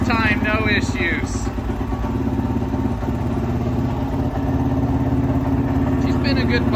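A Kove Rally 450 adventure motorcycle with a race exhaust idles steadily with a low, continuous rumble and clatter, running throughout at close range.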